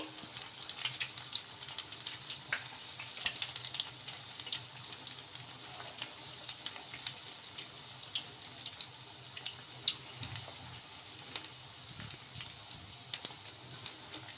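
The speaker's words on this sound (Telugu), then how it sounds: "మీడియంగా పెట్టుకొని ఫ్రై చేసేసుకోవాలి ఆయిల్లో ఈ బోండాలు" Semiya bondas deep-frying in oil on medium heat make a soft, fairly faint bubbling sizzle with scattered small pops, steady and continuous with no one talking.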